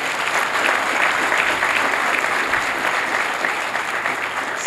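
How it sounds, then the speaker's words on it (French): A crowd at an inaugural academic lecture claps steadily and loudly, a dense wash of applause that holds even for several seconds. "s'il vous plaît, applaudissez"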